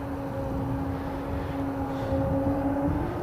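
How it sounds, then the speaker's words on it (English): Air Baltic airliner at snowy, freezing Riga International Airport, a steady broadband jet roar with a sustained engine whine, loud and continuous throughout, swelling slightly toward the end. "here comes the Air Baltic"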